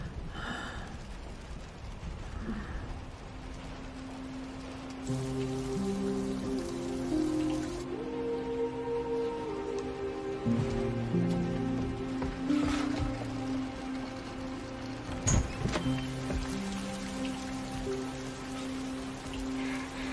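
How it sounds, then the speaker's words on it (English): Rain falling steadily outdoors, soft pattering that carries on throughout, with tonal music and a few sharper knocks layered over it. "It's starting to rain."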